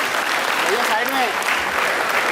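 An audience at an Agarwal community honours ceremony claps steadily, a dense, loud wash of applause that runs the whole time with a voice faintly heard over it.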